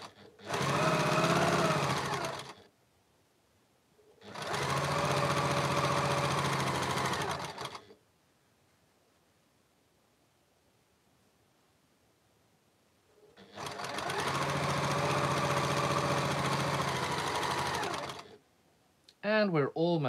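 A sewing machine stitches a quilt seam on a sun prints chains quilt in three separate runs of several seconds each, loud and steady, with silent pauses between and a brief burst of noise at the end.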